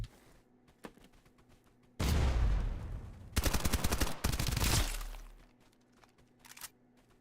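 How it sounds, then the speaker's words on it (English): Silenced gunshots in the video game Escape from Duckov come as loud bursts of rapid, clattering fire in two main bursts, separated by quieter stretches. "He has a silencer on his gun."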